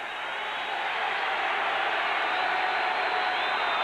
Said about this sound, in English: The defensive players are asking the crowd to quiet down.